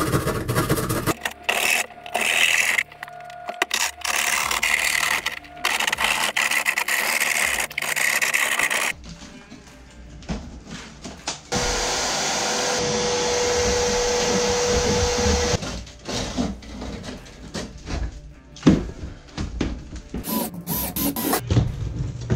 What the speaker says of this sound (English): I'm gonna use my sheetrock saw and I'm gonna cut out the opening of my niche.